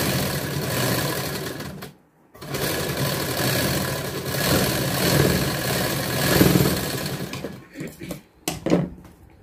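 A home sewing machine runs a double line of stitching on a katori blouse, a loud continuous motor whir broken by a brief pause and a few stop-start bursts near the end.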